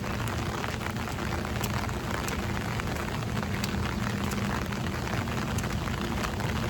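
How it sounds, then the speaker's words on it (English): Light rain falls steadily outdoors in Canada, a dense, even hiss of drops pattering on nearby surfaces with scattered louder taps, continuous throughout and with no talking. "ऐसे रिम झिम बारिश हो रही है"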